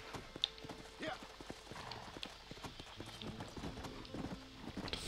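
Horse hooves clip-clop in an irregular, moderately loud patter through the Red Dead Redemption video game, mixed with other game sounds and someone talking over the top.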